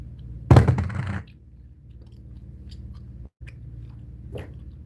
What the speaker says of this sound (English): But yeah, I'm chewing on vitamin C.